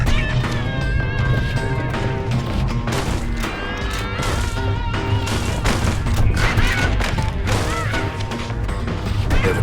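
A genuine registered army carbine firing repeatedly in the video game Bastion, a dense run of sharp cracks and crashes layered over music, loud and continuous throughout.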